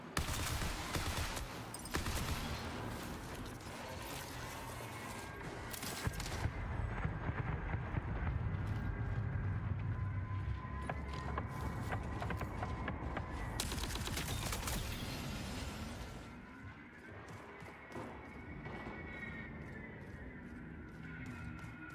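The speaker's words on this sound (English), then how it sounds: "So anyway, I started blasting." Sustained assault rifle fire in a video game, a long barrage of loud overlapping shots with clanking mechanical game effects, easing into calmer ambience for the last few seconds.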